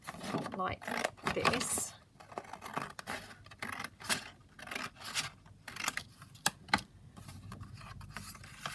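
Scissors snip through an A4 sheet of cardstock in a run of crisp, close cuts and papery rasps, heard under a speaking voice.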